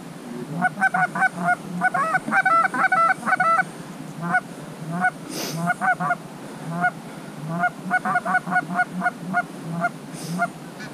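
Wild geese honk in repeated bursts during a layout hunt in Wisconsin, a flock calling in rapid clustered series, fairly close and clear, with brief pauses between volleys.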